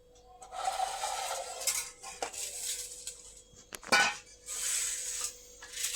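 Steel plates are set out and handled in a home kitchen, giving close clinks, scrapes and clatters with one sharper crash partway through and a faint steady hum underneath.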